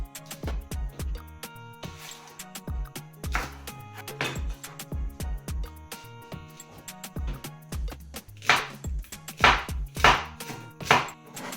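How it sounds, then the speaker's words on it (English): A knife cuts Italian salsicce, ground pork sausage, on a board, close irregular taps and thuds that come in uneven bursts, growing louder toward the end. "So it is time for me to cut our salsicce, that is the grounded pig meat"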